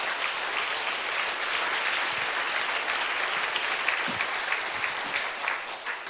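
Church congregation breaks into steady, dense applause giving glory to God during a sermon, a continuous wash of many hands clapping at full volume for several seconds.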